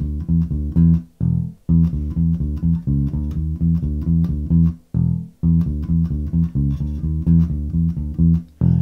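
A close, loud bass guitar plays a secondary riff, a two-bar bass line, repeated several times as a steady run of punchy plucked notes with brief ringing low notes marking each phrase end. No voices.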